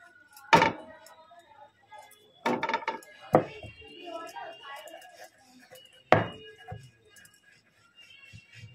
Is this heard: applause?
no